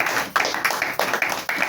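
Scattered hands clap in a church congregation during a sermon, a few sharp irregular claps spaced roughly every quarter to half second, fairly close and without any voices.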